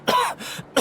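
A video game character in Honkai Impact gives a short throaty cough or throat clear, close and clear, in two quick bursts.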